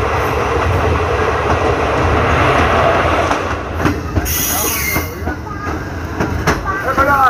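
The Upasana Express passenger train rolls along the rails with a steady loud rumble and rhythmic clickety-clack of wheels, with a brief high wheel squeal midway and no talking.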